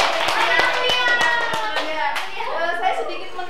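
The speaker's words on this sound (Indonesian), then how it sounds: "Ayo tepuk tangan dulu." A classroom of children clapping hands together, a burst of quick claps near the start that thins into scattered claps while children's voices chatter over it.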